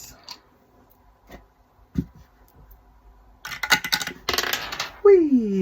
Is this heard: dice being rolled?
yes